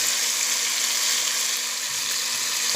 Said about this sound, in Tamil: தக்காளி வெங்காயத்தெலாம் நல்லா வந்து வதக்கியாச்சு